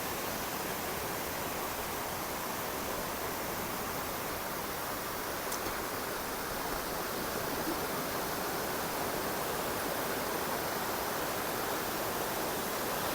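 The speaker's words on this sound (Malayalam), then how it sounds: "ഇത് ഇരട്ട വെള്ളച്ചാട്ടമാണ്" A tall twin waterfall in Idukki roars as a dense, unbroken wash of falling water, loud and steady throughout with no voices.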